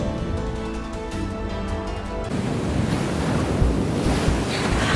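Ocean waves in the video game Love and Deepspace, with a deep rushing surge and windy noise that fills the scene, swelling louder after an underwater-sounding opening with musical tones.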